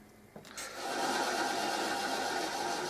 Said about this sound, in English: So what I'm going to do, belt sander.